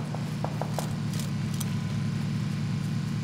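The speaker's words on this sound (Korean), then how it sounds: "차 소리." A steady car engine hum in the video game PUBG drones continuously, with a few faint clicks and taps over it.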